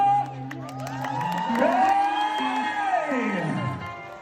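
A concert crowd in Ternopil, with children among them, cheers, whoops and shouts loudly for several seconds in a sustained swelling roar, with scattered clapping underneath.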